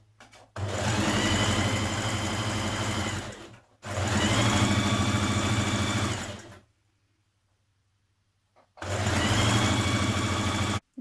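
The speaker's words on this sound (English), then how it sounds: "you're going to stitch this centre back seam" A sewing machine stitches the centre back seam of a tunic in three long, steady motorized runs, each a loud even whir, separated by brief pauses.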